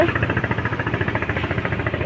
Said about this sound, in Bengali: আর ওদিক দিয়ে টলার আসছে